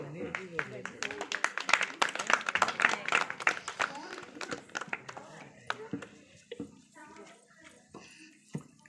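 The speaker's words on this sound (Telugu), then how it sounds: "చప్పట్లో" A burst of clapping from a small group at a child's birthday party, loud at first then thinning into scattered claps as voices chatter nearby.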